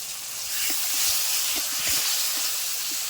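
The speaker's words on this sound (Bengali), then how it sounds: "বাদামটা ভালো করে ভেজে নিতে হবে" A constant, bright sizzling hiss of peanut paste frying in oil, with occasional soft taps and pops underneath, close and steady.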